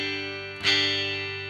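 Telecaster electric guitar on the neck pickup through a distorted amp: a sustained chord rings, then a fresh strum swells and holds with no one speaking.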